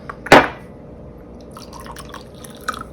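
Club soda poured into a measuring glass in a home kitchen gives one sharp close splash at the start, followed by faint fizzing and small clinks.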